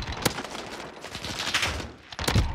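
Rapid bursts of automatic gunfire from a weapon in Call of Duty: Modern Warfare, loud and close, with sharp repeated shots across the clip and no speech.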